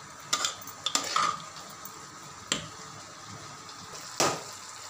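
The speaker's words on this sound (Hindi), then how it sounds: "अब हम इस दलिया को इस फ्राई पैन में ऐड कर लेंगे।" Cooked daliya scooped out of a pressure cooker into a frying pan, heard as a few sharp, close clinks and scrapes of a utensil against metal cookware, spread irregularly over a quiet kitchen background.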